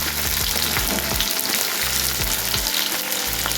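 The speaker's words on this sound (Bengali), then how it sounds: "এরপর পেঁয়াজগুলিকে দেওয়ার পর আমরা ভালো করে এগুলিকে ভেজে নেব।" Chopped onions sizzle loudly and steadily in hot oil in a pan, a dense continuous crackle with repeated low scraping knocks from stirring, close and alone.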